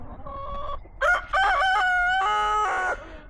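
Broody Silkie hens and other chickens in a backyard flock, loud close clucking and drawn-out calls overlapping one another, with a crowing-like call among them and no talk.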